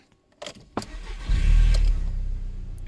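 A couple of clicks, then the engine of a first-generation Audi TT cranks and catches, settling into a loud, low idle rumble close by.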